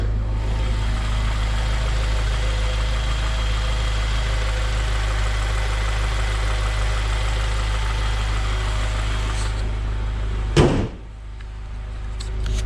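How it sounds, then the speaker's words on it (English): A Honda Prelude engine idles smoothly and quietly close by, a steady low hum lasting throughout, broken near the end by a brief louder thump like a door. "there you go, that's how smooth and quiet the engine actually is"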